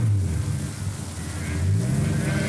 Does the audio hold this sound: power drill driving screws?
no